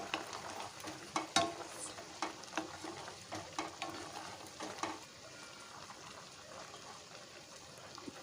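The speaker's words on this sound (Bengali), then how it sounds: "কড়াইয়ের ঢাকাটা তুলে দেখব কতটা জলপাইগুলো নরম হয়েছে দেখো একদম খুব সুন্দরভাবে ফুটছে জলপাইগুলো" Olives simmering for a sweet-sour olive pickle with jaggery in a pan, lid lifted, giving a soft bubbling and faint stirring texture with a few clinks near the start, moderately quiet and without talk.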